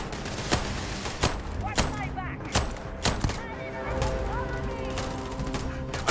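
Gunfire in the video game Starfield: sharp separate shots land about every half second, layered over rattling bursts and game sounds, while a voice talks at times.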